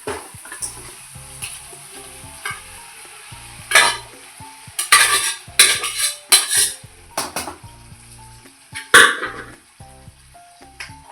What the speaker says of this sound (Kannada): ಚಿಕನ್ ಹಾಕ್ಕೊಳ್ತಾ ಇದ್ದೀನಿ.